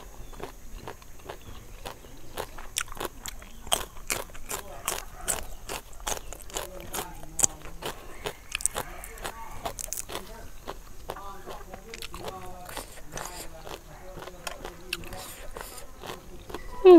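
Crunchy apple snails being chewed with papaya salad, a steady run of close crisp bites and crunches with some scraping, while a voice talks over parts of it.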